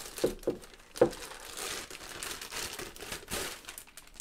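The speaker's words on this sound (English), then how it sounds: "So we're gonna rip the plastic open." Plastic wrapping around a Mackie Big Knob is torn open, with a few sharp crinkling rips followed by softer rustling and crumpling, close and fairly quiet.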